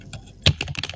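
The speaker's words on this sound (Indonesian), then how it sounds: "kemudian kita coba untuk mulai mengetik" A computer keyboard clatters as someone types in Microsoft Word, with a few soft keystrokes followed by a louder burst of quick, close taps and no talk.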